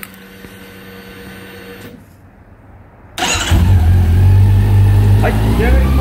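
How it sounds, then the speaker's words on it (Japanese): After a brief lull, a Honda CB400 Super Four VTEC Revo motorcycle engine cranks and catches, then settles into a loud, steady idle rumble close by. "それではですねエンジン始動いきたいと思います"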